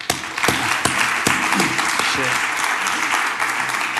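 An audience claps and hollers at a Red Bull Music Academy talk, sustained applause with a few sharp, close claps and cheers standing out, loud and continuous.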